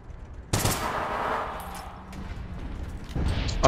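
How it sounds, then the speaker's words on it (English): Mega shot handgun firing in the APB Reloaded video game: a sharp loud blast followed by a decaying echoing tail, then another burst of shots near the end. "the other one's trying to shoot me on the ramp at the minute. With his mega shot handgun"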